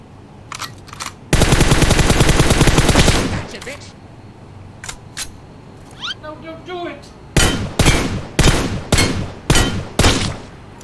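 Gunfire in PUBG Mobile during a solo-versus-duo fight: a long loud automatic burst, then scattered single shots and a closing series of heavy rhythmic shots, with someone talking between them.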